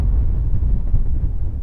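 Low, blustery rumble of wind buffeting the microphone, loud and continuous with gusty fluctuations.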